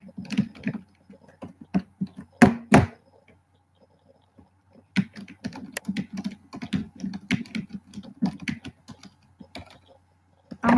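Rapid, uneven typing on a computer keyboard fills the stretch, with bursts of clicky keystrokes, a brief pause near the middle, then more steady tapping, close and fairly loud.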